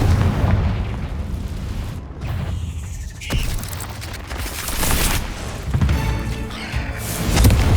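Confringo blasting spell explosions in the Hogwarts Legacy video game, several loud booming bursts with sharp pops breaking up the continuous rumbling roar of a fast spell-casting fight.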